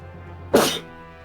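A single sharp human sneeze bursts out mid-clip over a quiet hum, loud and close, then fades quickly.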